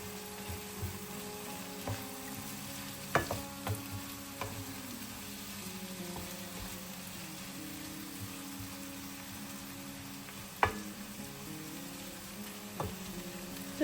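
Potatoes and tomatoes seasoned with salt, red and black pepper and oregano fry in a pan, a low, steady sizzle broken by occasional sharp scrapes and knocks of a utensil stirring.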